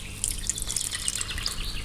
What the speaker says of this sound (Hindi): इसको अच्छी तरह से निचोड़ के ना इसका पानी निकालना है